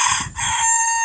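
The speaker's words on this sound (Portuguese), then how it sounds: "E o galo cantando, comemorando." A rooster crows loudly and close by, a single sustained cock-a-doodle-doo with a brief dip partway through, heard on its own without talk.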